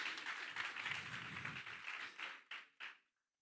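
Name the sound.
congregation applauding in church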